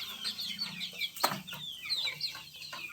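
Native village hens and young chicks cluck and peep close by, a busy run of short overlapping calls with one louder squawk in the middle.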